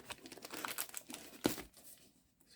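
Handheld console packaging being opened: scissors slicing through tape on the box, a run of close, crisp crinkling and snipping bursts with one sharp louder cut midway, no talk.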